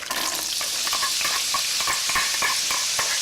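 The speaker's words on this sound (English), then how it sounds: "now my oil is nice and hot, I'm going to add in my minced onion." Minced onion sizzles in hot oil, a steady bright frying hiss with quick stirring scrapes across it, close and fairly loud, with no voices.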